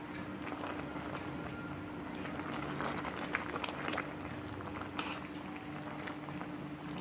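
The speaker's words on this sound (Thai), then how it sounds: "ต้มไว้ให้มันเดือด ให้มันสุกก่อนจ้ะ" A pot of mushroom and sour bamboo shoot curry boils, with a constant close bubbling and popping and a low steady hum beneath it.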